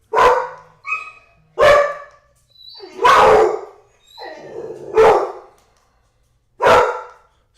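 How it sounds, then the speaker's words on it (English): A dog barks six times close up, loud separate barks spaced about a second apart with short whiny yips between, with no talk. "Stop barking."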